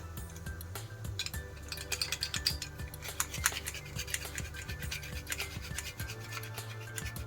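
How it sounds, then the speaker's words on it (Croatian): Garlic is grated by hand, making a quiet, rapid run of rhythmic scraping strokes that continues throughout. No one speaks. "Rendamo beli luk."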